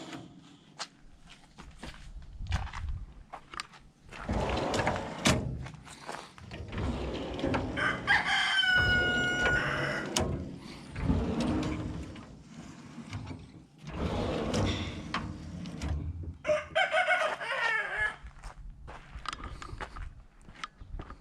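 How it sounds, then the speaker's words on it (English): Roosters crow nearby, their calls repeating among clucking hens and scattered footsteps and clatter. "We're gonna visit the roosters, see what's going on here."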